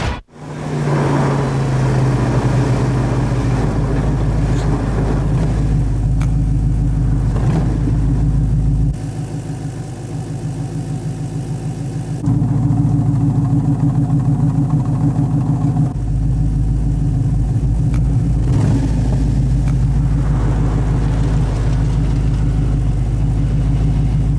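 A Pontiac GTO engine runs loud and close, holding a steady throaty idle and rev that drops briefly, then swells back up and sustains with small fluctuations, with no talk over it.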